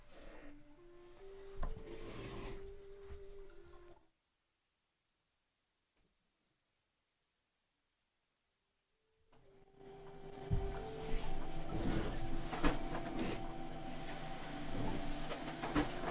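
A printer prints a document indoors, giving bursts of mechanical whirring and clattering, then a few seconds of near silence before the feed resumes, louder and busier.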